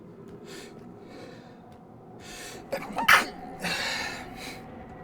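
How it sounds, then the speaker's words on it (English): A single sharp sneeze bursts out after a brief inhaling build-up, close and fairly loud, then fades into breathy quiet. "I have to sneeze, it's gonna ruin the mood."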